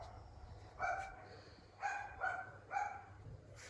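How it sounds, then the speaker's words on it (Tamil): A dog barks four times, faint and somewhat distant, in short separate yaps with pauses between them. "நாய் குலைக்கிறேன் பார்த்தீங்களா?"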